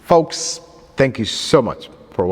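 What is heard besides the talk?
No everyday noises stand out.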